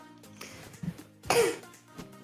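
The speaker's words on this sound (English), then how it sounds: "That was me coughing." A single sharp, close cough bursts out after a few faint throat noises, loud and brief against an otherwise quiet room.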